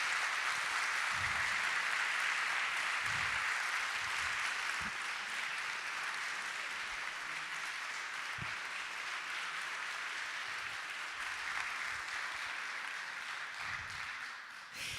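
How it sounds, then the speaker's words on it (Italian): Steady, continuous applause from an audience at an honorary degree ceremony at the University of Padua, holding at an even level throughout with a few louder claps standing out. "lo accompagniamo con un meritato applauso"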